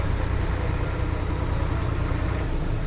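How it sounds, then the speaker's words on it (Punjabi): A side-gear tractor runs at a tractor market in Barnala, Punjab, its engine idling in a steady, rumbling drone that holds evenly throughout with no voices over it. "ਟਰੈਕਟਰ ਆ ਗਿਆ ਜੀ ਤੁਸੀਂ ਦੇਖ ਸਕਦੇ ਹੋ"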